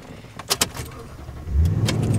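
A Toyota Tundra V8 pickup engine started with the key: a couple of sharp clicks and a brief rattle, then the engine catches and settles into a loud, steady low rumble.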